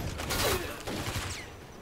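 Rapid burst of gunfire aimed at zombies in a base-building survival video game, a loud fusillade of shots packed into the first second, then trailing off under faint game ambience.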